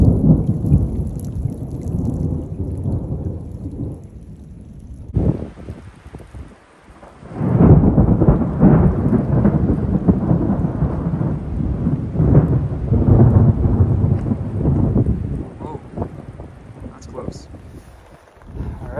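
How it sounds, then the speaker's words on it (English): A massive thunderstorm rolls over a lakeside campsite on a solo paddling trip. Deep thunder rumbles on and off over steady, heavy rain drumming close by for the whole stretch. "there's a massive thunderstorm that just rolled through here"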